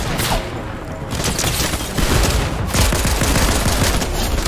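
Dual pistols firing in a video game, a dense rapid stream of overlapping gunshots, loud and close throughout with no pause.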